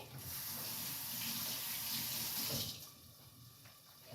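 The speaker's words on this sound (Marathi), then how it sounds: "मी याला पहिला धुवून घेते" Two potatoes rinsed under a running kitchen tap, a steady broad rush of water that runs loud for nearly three seconds, then drops to a quieter trickle.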